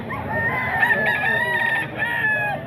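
A rooster crows loudly nearby, one long drawn-out call followed by a second shorter crow, with faint clucking around it.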